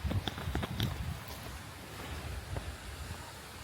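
Sea waves washing onto a tropical beach at Kewarra Beach with gusts of onshore wind, a few sharp bursts early on, then a steady rushing surf and wind roar.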